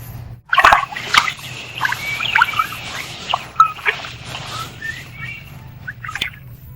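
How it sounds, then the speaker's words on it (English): AI-generated outdoor ambience of birds and crickets, with scattered chirps and calls over a low steady hum and a faint watery splash near the start. "You can hear birds and crickets."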